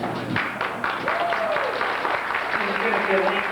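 Wedding guests applauding at a reception: a burst of loose, scattered clapping from a crowd that carries on in the background while voices talk over it.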